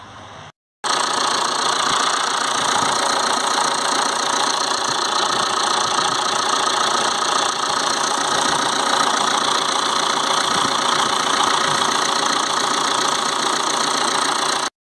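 A Vauxhall Insignia 2.0 CDTi diesel engine with turbo overboost and underboost faults cranks briefly, then catches and settles into a loud, steady idle with a rough, knocking diesel clatter, heard up close without talk.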